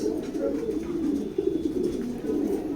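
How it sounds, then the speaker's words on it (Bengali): A male racing pigeon, raced out to Birganj, coos repeatedly at close range in a loft, soft throaty rolling calls running continuously. "আনোয়ার লফটের এই নটটা আমার খুবই ভালো নট"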